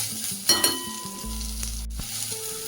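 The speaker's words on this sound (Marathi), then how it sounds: "आता आपण टाकूया त्यात कांदा. तोही व्यवस्थित परतून घ्यायचा आहे." Chopped onion sautéing in oil with peanuts in a pan, a steady close sizzle with a couple of sharp clinks of a spoon stirring early on, and a low hum running underneath.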